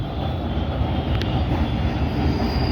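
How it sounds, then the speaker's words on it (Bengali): A metro train rolls past near Garia station, a steady loud rumble of wheels on rails that holds throughout, with a brief faint squeal partway through. "কথা বলতে বলতে আরেকটা মেট্রো চললো।"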